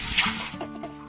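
Clean spring water from a village spring splashing and pouring into a metal pot, a brief close liquid rush that settles into a softer trickle.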